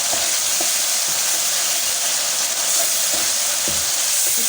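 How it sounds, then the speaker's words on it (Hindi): Tomatoes and spices fry in a pan for shalgam bhujia, a steady, loud, close sizzle running unbroken throughout with faint stirring knocks underneath. "इसको हम ज़रा सा भून लेते हैं अबाउट 1/2 to 1 मिनट"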